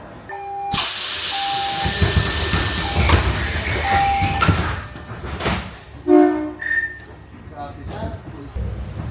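The Seattle Center Monorail train gives a hissing, rumbling ride noise with brief tonal chimes and beeps, while people talk nearby.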